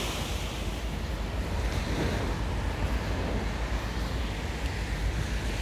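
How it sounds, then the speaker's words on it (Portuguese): Sea waves surge at high tide on the beach at Balneário Camboriú on a chilly day, a continuous roar of surf mixed with wind buffeting the microphone, with no talk over it. "o mar já teve o. Acho que já teve o pico de maré mais alto hoje"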